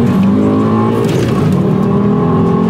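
A Volvo S60R engine revs hard and loud through aggressive gear shifts, its tone rising and dropping steadily across the whole stretch with no talking.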